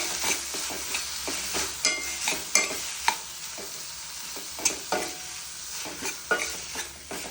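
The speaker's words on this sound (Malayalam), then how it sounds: "ഇനി നമുക്ക് നന്നായിട്ട് ഇളക്കാം കേട്ടോ." Cauliflower perattu being stirred in a pan: a spoon scrapes through the frying mixture again and again in an uneven rhythm, with a steady sizzle running underneath.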